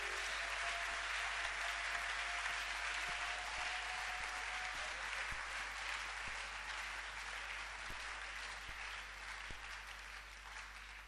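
A church congregation applauds in acclaim of the Lord, sustained dense clapping from many hands that stays steady and full before slowly tapering near the end.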